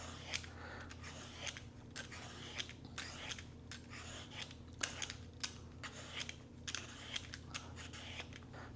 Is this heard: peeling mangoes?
yes